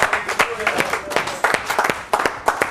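Church congregation clapping and cheering in scattered rhythmic bursts, close and lively, with voices calling out throughout.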